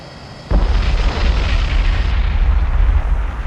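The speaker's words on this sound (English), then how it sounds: "Beautiful explosions." Missile strikes in the submarine combat game Cold Waters land in a sudden loud blast after a brief lull, followed by a heavy, sustained rumbling roar of explosions that continues to the end.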